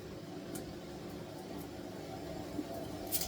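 A washing machine runs in the background of a home kitchen, a low steady mechanical hum and rumble, faint and continuous, with a couple of small clicks.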